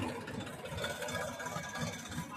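A tractor engine runs steadily with a riding passenger aboard, a continuous close, loud mid-to-low rumble with a slight pulsing rhythm throughout and no talk.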